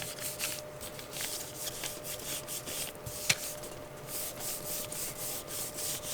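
Paper is pressed and rubbed firmly onto a gel printing plate by hand, producing soft, repeated scratchy rubbing strokes at close range with one brief sharp tap midway, and no talk.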